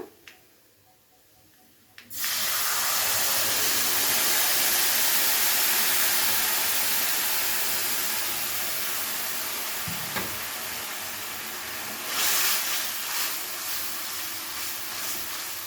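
Tamarind water poured into a pan of garlic fried light brown, bursting into a loud, sustained sizzle and hiss after a quiet start, fading slightly, with some stirring scrapes later.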